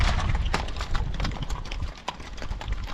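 Icelandic horses, small and sturdy, ridden up a mountain trail in an Icelandic fjord, their hooves clip-clopping in close, rapid uneven beats over continuous loud rumbling movement.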